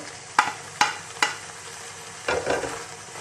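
Two to three chopped medium onions drop into frying minced-meat keema for a samosa filling: three sharp spoon knocks against the pan, then a loud, close burst of sizzling that settles into steady frying.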